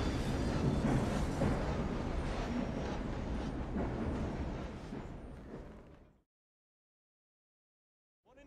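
A train runs on rails in the video game Assassin's Creed Syndicate, a loud, steady rumbling roar for about six seconds that cuts off abruptly into silence.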